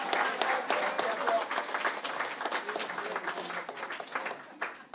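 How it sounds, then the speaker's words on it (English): Applause at a town hall meeting, a dense but moderately quiet burst of many people clapping that ebbs and swells, with some murmuring voices mixed in before it thins toward the end. "You deserve that round of applause."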